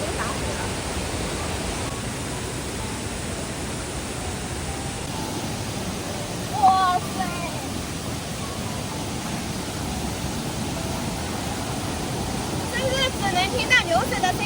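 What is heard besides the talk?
loud rushing floodwater in a mountain river gully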